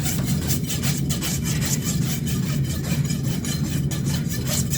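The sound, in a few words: farrier rasp filing a horse hoof wall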